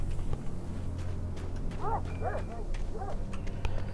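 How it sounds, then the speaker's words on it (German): Dogs bark in the Alan Wake video game. A few distant yips and barks sound one after another over a steady low ambient rumble. "Wir hören immer nur die Hunde."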